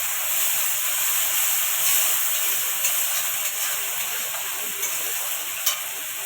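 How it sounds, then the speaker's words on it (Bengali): Spice paste with Kashmiri chilli powder and a splash of water frying in a pan for a Bengali fish curry, giving a loud, steady sizzling hiss with occasional faint scraping stirs, no voices. "মশলাটা ভালো করে কষিয়ে নেবো।"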